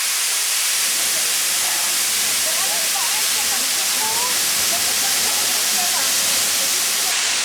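The Selce waterfall in Albania roars from almost directly underneath, a steady, loud broadband rush of falling water that fills the whole stretch without pause.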